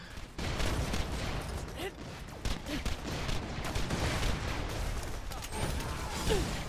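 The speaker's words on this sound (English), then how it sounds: "They're all shooting randomly." Enemy gunfire from the video game Borderlands: The Pre-Sequel, a dense, continuous barrage of rapid shots and bursts throughout, mixed with game effects and some talk.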